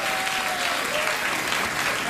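A studio audience at a late-night talk show claps in a sustained, even burst of applause, loud and close, with a faint voice briefly underneath.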